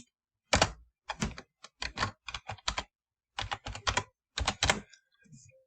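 Keys are tapped out on a computer keyboard in short irregular bursts with brief pauses, as a password is entered. The clicks are crisp, close and isolated.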